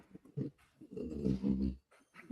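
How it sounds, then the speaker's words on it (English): A dog close by makes low grunting, growly rumbles in a couple of drawn-out bursts, soft and muffled. "dog's over here grunting."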